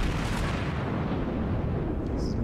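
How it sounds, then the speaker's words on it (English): HE shells from a cruiser rake the deck of the battleship USS North Carolina in World of Warships, a dense, loud roar of continuous impacts and rumbling blasts with no pause. "we're going to start seeing some large numbers pop up as the Aoba rakes my deck with"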